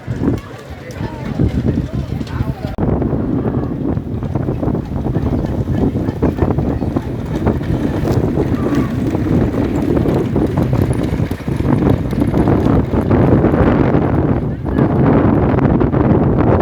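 Bullock carts racing in a bullock cart race event, with a loud continuous rumble of hooves and wheels and wind buffeting the microphone as the carts approach, and excited commentary running over it.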